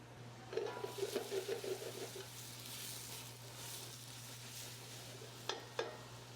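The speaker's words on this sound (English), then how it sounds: "toss in our onions. I'm gonna sweat these guys down." Onions sweating in extra virgin olive oil, a soft steady sizzle with a brief burst of stirring scrapes early on and a couple of light clinks later, faint and without talk.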